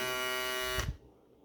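A repaired electric shaver runs close up with a steady, loud buzz for under a second, then cuts off abruptly and leaves a quiet, faint tail.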